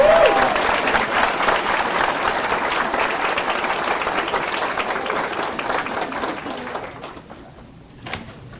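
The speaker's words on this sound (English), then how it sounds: "we'll give you all another round of applause and just thank you" An audience at a board meeting gives a sustained round of applause. It is loud and steady at first, then thins and fades away near the end.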